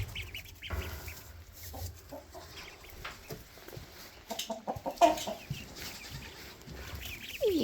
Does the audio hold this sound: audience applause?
no